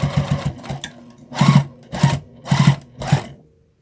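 Sewing machine stitching a fabric bowl cozy around a corner, delivered as several short loud bursts of rapid needle chatter separated by brief pauses, close and alone.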